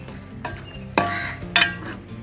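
A spoon stirs sardine fish curry in a pan, a nearby soft scraping with a few sharper swishes and clinks of utensil against metal over a faint background sizzle, no talk.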